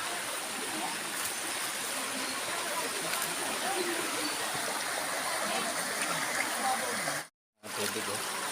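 Steady rushing stream water on Mindoro, a constant close wash of flowing sound that continues throughout, cut off briefly near the end.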